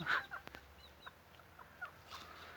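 Young İspenç five-toed gülibik chickens being settled with brood hens give a few sharp clucks near the start, then scattered softer calls over a quiet farmyard background.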